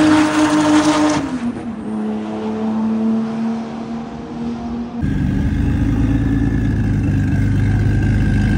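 A loud orange Porsche 935 Kremer race car with a big turbo roars steadily on a Miami track day, shifting pitch partway through as the revs climb with a harsh turbocharged growl, close by.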